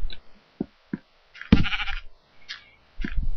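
Sheep in a blocky Minecraft-style video game bleat in several short, separate calls with gaps between them, loud and close, with no talking.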